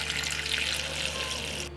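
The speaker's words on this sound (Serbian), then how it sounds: "U šerpu ću sipati vodu da prekrije jagode." Water pours steadily into a pot of strawberries, about a kilogram, a continuous splashing rush that fills the whole moment and cuts off abruptly at the end, loud and close.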